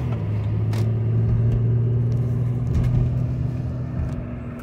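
A 2002 Buick LeSabre drives along a street, heard as a steady low engine and road rumble from inside the car with no voices.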